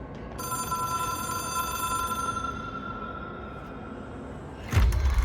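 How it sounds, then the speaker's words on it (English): An old telephone in Control rings with a sustained bell tone over a low room rumble, then stops abruptly with a sharp thud near the end. "It is a phone."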